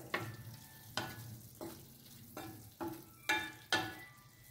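Tomatoes are stirred into frying bottle gourd sabji, with six or seven distinct metallic scraping strokes at a steady rhythm over a faint sizzle, close and fairly quiet.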